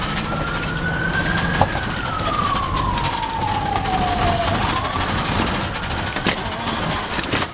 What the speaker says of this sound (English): The ambulance, right?